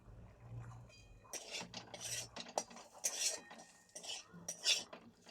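A spoon scrapes and clinks against a pan while pushing large pieces of hilsa fish cooked with mustard and poppy seed aside, irregular metallic taps and rubs close by after a brief quiet rumble.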